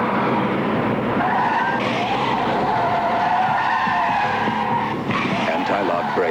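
BMW 528e tires skidding under anti-lock braking, a sustained squealing slide that runs loud and steady through the whole stretch with engine noise, with no pause.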